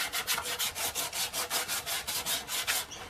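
Filler on a Black Horse Super Air model aircraft is hand sanded with 240 grit sandpaper: about fifteen quick, even back-and-forth rasping strokes, close and alone.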